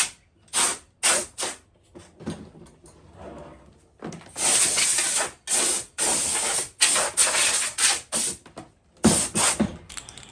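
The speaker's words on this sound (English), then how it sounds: "we're going to spray it over with Lanotech" Lanotech spray is applied onto a non-running lawn mower being serviced, a series of close, loud aerosol hisses in short bursts and longer sustained blasts, separated by brief pauses and faint handling noises.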